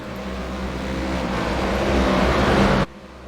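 Race cars accelerate hard together at the green-flag start at Watkins Glen, a loud continuous engine roar building steadily for nearly three seconds before cutting off abruptly, with no talk over it.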